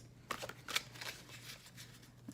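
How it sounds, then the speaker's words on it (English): A large, thick oracle card deck being shuffled by hand, with soft quick riffling bursts and light slaps up close, fairly quiet. "I do like to sit and shuffle my cards."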